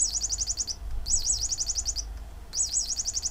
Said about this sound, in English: It is just some sort of weird like bird call, but it doesn't seem to have more than one sound.